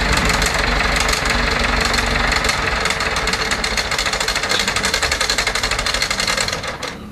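A Zetor Super 50 tractor engine idles steadily and close, a dense mechanical chug with fine rapid knocking throughout, easing slightly in the final second.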